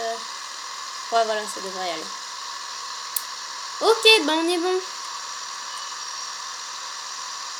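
A steady, whiny vehicle engine drone from Farming Simulator 15 runs throughout, with voices speaking briefly over it.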